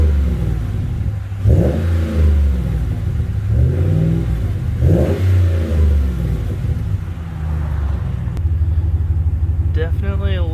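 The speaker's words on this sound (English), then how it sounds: "I'll put the camera down and we'll get a couple revs out of it." A 2009-2021 Dodge Ram pickup with a MagnaFlow direct-fit muffler idles with a deep, throaty exhaust, then revs up several times in swelling bursts, loud and close, settling back to a rumbling idle.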